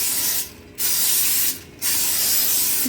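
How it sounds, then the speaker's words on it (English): Cooking spray hisses into a foil-lined crock pot in two short bursts, a pause between them, with a steady room hiss underneath. "Oh, and spray it."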